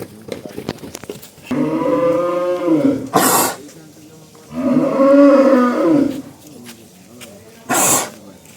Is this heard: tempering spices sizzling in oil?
no